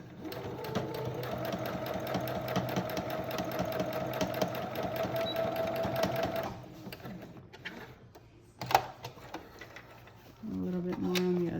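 A sewing machine stitches a seam on a fabric surgical mask in black thread, a fast, steady mechanical whirr for about six seconds, then stops; afterward come faint handling clicks, a brief thump and soft talk.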